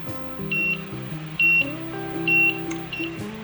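A kitchen timer goes off while a scratch-made green bean casserole cooks: three short, high, evenly spaced beeps cut clearly through a soft, steady tonal background.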